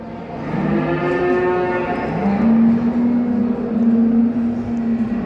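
Cattle at a livestock market in Çorum, Turkey moo in long, low, drawn-out calls, one after another, close and loud against a steady background rumble.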